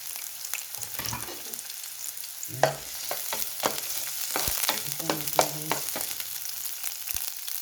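Chopped onion and garlic frying in a pan, with a steady crackling sizzle broken by repeated sharp scraping and stirring clatters from a utensil, close and fairly loud, with no talking.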